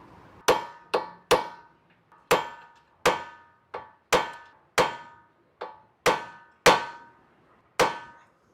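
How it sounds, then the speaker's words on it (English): A punch and hammer stake the axle nut lip into the axle shaft groove of a 2008 Honda Civic during a front wheel bearing job: about a dozen sharp metallic clangs, close and loud, struck in a steady, slightly uneven rhythm with ringing decays. "I'm gonna take a punch and a hammer. I'm gonna hammer down the lip of that axle nut into the groove on the axle shaft"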